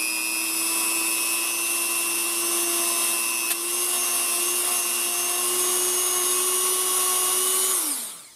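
A Dremel rotary tool whines at a steady high pitch while buffing metal parts of a Ruger GP100 revolver, running continuously before spinning down at the end.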